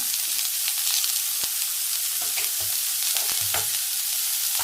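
Onions fry in a pan for a village-style egg curry while a spatula stirs them, giving a constant sizzle punctuated by repeated sharp scraping knocks.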